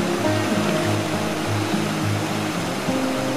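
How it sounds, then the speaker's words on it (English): A small waterfall on a river in Banff rushes steadily below a bridge, a dense, continuous roar of falling water with a low tonal hum running under it. "and there's a sick little waterfall."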